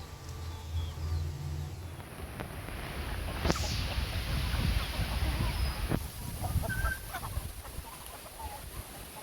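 Chickens clucking here and there against a steady outdoor background hum, with a few sharp clicks and bursts of noise mixed in.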